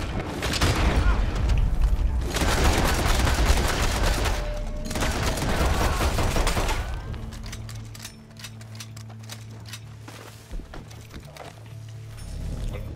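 Rapid, continuous gunfire from a video game weapon with unlimited ammunition, loud and dense for about seven seconds, then dropping to scattered quieter shots over a low mechanical hum.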